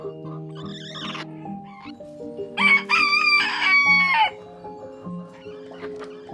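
A rooster crows loudly and close, a drawn-out call rising over softer clucking and other birds in the background.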